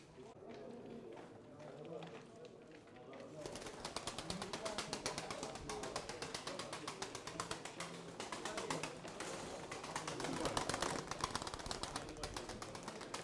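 Pigeons burst into flight at a bird auction, a loud dense flutter of many wings starting abruptly and running continuously, with a crowd talking throughout.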